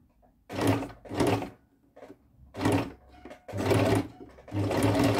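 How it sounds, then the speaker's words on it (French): A sewing machine stitches across a fabric pouch and back again, five or six bursts of close, loud whirring separated by brief pauses. "Donc un petit aller-retour avec votre machine."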